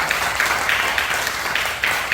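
A church congregation claps together during a worship service, a brief, steady wash of applause that carries on evenly for a couple of seconds without speech over it.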